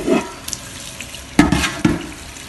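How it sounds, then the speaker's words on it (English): Running water and sloshing scrubbing as rear disc brake parts are washed by hand with regular soap and water in a sink, with a few sharper splashes and clatters up close. "I find that regular soap and water does it best"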